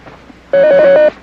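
A telephone rings in a single loud, close burst of trilling bell lasting about half a second, alone without voices.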